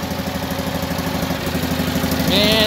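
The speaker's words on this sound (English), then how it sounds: "It's powered by a tiny little air-cooled 600cc engine" The tiny air-cooled 600cc engine of a 1969 Citroën Ami 6 Break idles steadily with a low, even putter, joined near the end by a higher whine; it stays close and fairly loud throughout.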